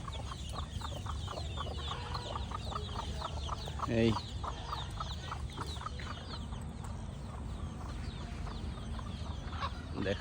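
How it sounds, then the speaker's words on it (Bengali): A chicken perched up in a fig tree clucks repeatedly in a steady run of short calls, moderately close over quiet outdoor background, with a brief spoken interjection partway through. "গাছের উপরে ডুমুর গাছের উপরে মুরগি"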